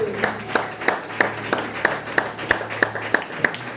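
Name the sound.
church congregation applauding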